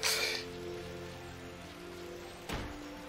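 Rain falling in the video game Final Fantasy XII, a steady wash of noise that holds through the short stretch, louder at the start and with a brief burst near the end.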